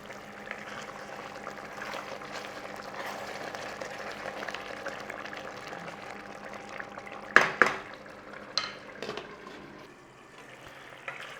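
Spinach chicken curry simmering under a lid in a pot, a soft steady bubbling hiss throughout, broken near the end by a few sharp clinks and knocks of the lid or utensils.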